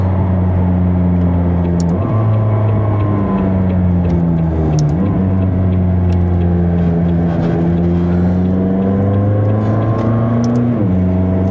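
A McLaren 600LT Spider's engine drones loud and close from inside the car, its pitch rising steadily and dropping abruptly at several quick gear shifts, with no talking.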